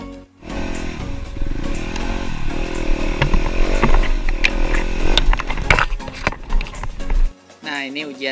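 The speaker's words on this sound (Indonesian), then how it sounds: "Motor trail." A trail motorcycle rides an extreme offroad track up to Puncak Sebatik in Bontang, its engine droning and revving loudly and close for several seconds with rattling clatter and voices talking over it, cutting off near the end.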